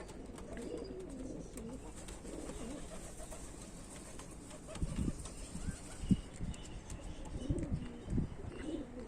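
On a rooftop, pigeons coo in low, soft bursts with occasional wing flaps and chirps, quiet and close, the cooing growing busier toward the end over a faint background hum.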